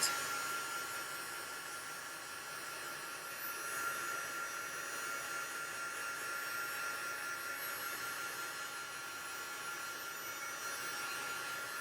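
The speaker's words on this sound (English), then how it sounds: "this is where you want to keep your heat gun moving" A heat gun runs continuously while melting heat embossing powder on a card, giving a steady, fairly soft whooshing fan-and-air hiss that barely changes throughout, with no talking.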